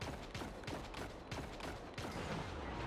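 Scout rifle fire in the video game Destiny 2: a dense run of rapid, loud gunshots in quick succession, layered with game effects and continuing without pause.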